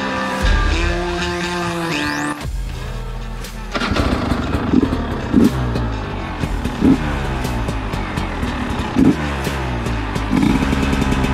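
A newly bought motorcycle, converted from fuel injection to a carburettor, idles and revs loudly and close up, its engine note rising and falling with sharp throttle blips throughout.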